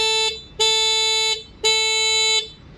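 Electric horn on a three-wheeler electric bike sounding in two long steady beeps with a short gap between them, loud and close with no talking.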